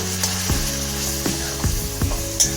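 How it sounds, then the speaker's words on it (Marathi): Chicken pocket filling hits hot oil in a kadhai, giving a steady loud sizzle with occasional knocks and scrapes of a spoon stirring, close up and with no talk. "तेल तापलं आहे आता आपण कढाईमध्ये ऍड करूया"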